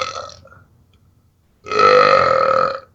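A deliberate burp, one short throaty croak followed by a louder, longer, drawn-out belch, close and prominent.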